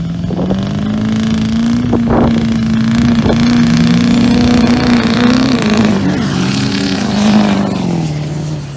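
Diesel pickup trucks, including a Duramax L5P and an LML, roar in a dirt drag race, a loud sustained engine drone with rising turbo whine and revving, close and continuous.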